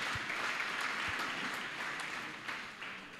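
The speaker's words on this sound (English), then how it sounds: "Can we please give him another round of applause?" Audience applause fills a conference hall, a sustained wash of many hands clapping steadily at close range, tapering slightly toward the end with no voices over it.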